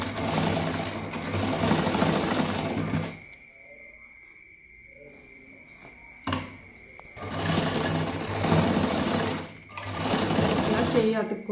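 A sewing machine runs a double stitch in two loud, close bursts of fast rattling. The bursts are split by a short quiet pause with a brief click, and a final shorter run follows.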